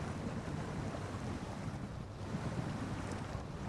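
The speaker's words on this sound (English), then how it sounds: "Let's just cross the river." A truck fording a river in Snowrunner gives a steady, faint wash of rushing water and low engine rumble, continuous and even throughout, without any voices.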